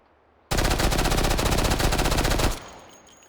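A MAC-10 machine pistol in H3VR fires one continuous full-auto burst of about two seconds, rapid and loud, with a short fading tail after the trigger releases.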